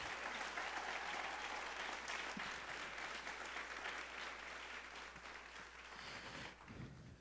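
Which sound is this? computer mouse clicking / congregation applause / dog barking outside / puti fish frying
congregation applause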